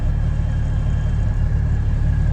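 A 1989 Toyota Supra MK3 with a 7M-GTE engine idles, a steady low rumbling drone with an even, slightly lumpy pulse, close and constant with no voices over it.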